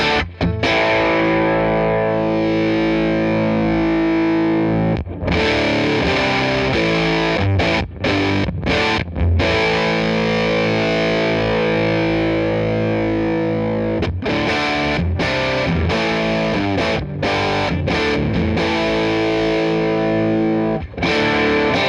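Heavily distorted electric guitar with a fuzz and an overdrive blended in parallel, a thick, fuzzy tone, chords ringing and sustaining with brief pauses between phrases.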